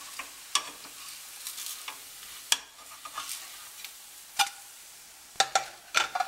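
Ragi adai, a thick millet dosa, cooking on a pan over a medium flame: a soft, steady sizzle broken by sharp clicks and taps of a spatula, close and fairly quiet, with no voices.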